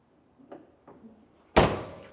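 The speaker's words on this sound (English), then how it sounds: "Doors shut nice and solid." Two faint soft clicks, then a single solid 1966 Ford Mustang car door thunk that rings briefly before fading.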